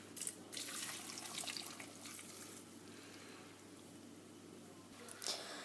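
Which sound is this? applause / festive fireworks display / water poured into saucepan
water poured into saucepan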